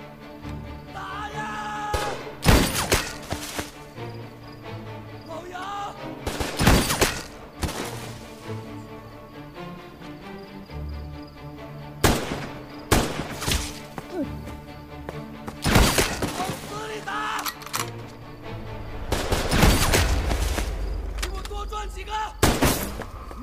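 Gunfire in a Chinese sniper war film, with sharp, loud shots bursting out repeatedly and irregularly over a dense score and shouted voices, including heavy impacts near the end.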